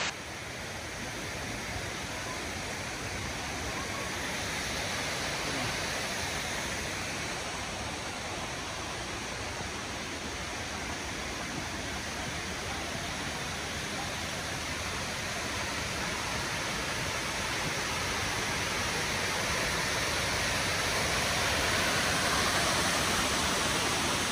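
Yudaki Falls waterfall roaring as a steady, dense wash of broadband white-noise-like water sound, constant and enveloping for the whole stretch with no voices.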